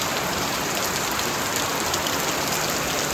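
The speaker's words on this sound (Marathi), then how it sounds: "कौनावरती पण जेव्हा थेंब पडतात ना त्याचे तुषार उडतात" Steady, dense rain dripping from roof tiles in the Konkan monsoon, pattering and splashing nearby, an even hiss with no pauses and no voices.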